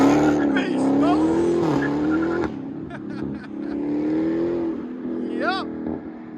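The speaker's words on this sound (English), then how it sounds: "Hellcat with Flowmaster Outlaw shorties in the middle, carbon tips" A Dodge Hellcat with Flowmaster Outlaw exhaust and carbon tips revs loudly nearby in rising, falling surges, with a brief squeal near the end and voices talking over it.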